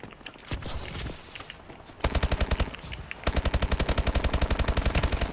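Rapid automatic fire from a video game gun, with sparse shots at first, then two long sustained bursts of evenly spaced loud shots.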